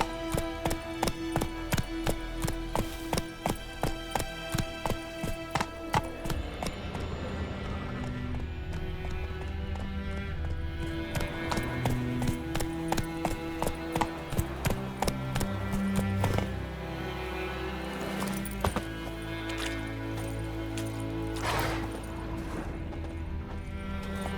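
Roach the horse galloping in The Witcher 3: Wild Hunt, a steady, rapid clip-clop of hoofbeats in a rolling rhythm over a bed of game music that carries on after the hooves fade.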